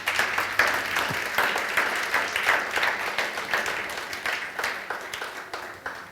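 A church congregation breaks into sustained applause, with steady, dense clapping from many hands filling the room throughout at an even level, and no talking over it.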